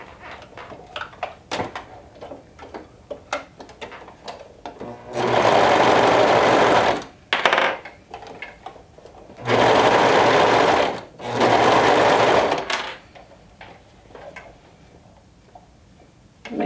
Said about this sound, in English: So now we're going to go ahead and stitch it down with a half an inch seam